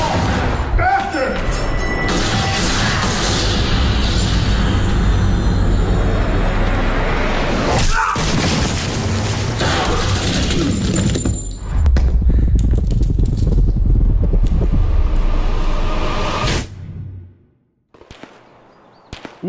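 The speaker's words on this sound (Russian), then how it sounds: "Уф, уф, как стреляют." Rapid bursts of gunfire in the Escape from Tarkov shooter game, loud and continuous with metallic clinks and crashes for most of the stretch, then cutting out abruptly near the end.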